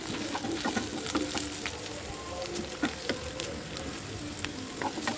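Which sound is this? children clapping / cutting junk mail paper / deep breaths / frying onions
frying onions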